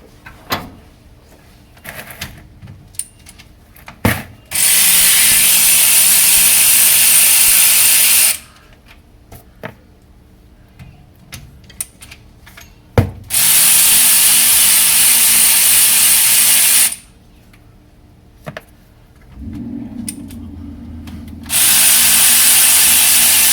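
Power tool, such as an impact driver, loosening the bolts on a rear differential cover in a home garage: three long, loud, steady hissing whirs, separated by quieter pauses with faint clinks and handling.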